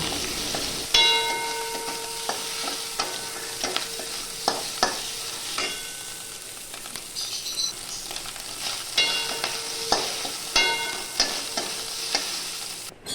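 Soya chunks fry in the leftover oil from frying pointed gourd, seasoned with turmeric and salt, a steady close sizzle broken by repeated metallic scrapes and clinks of a spatula stirring in the pan.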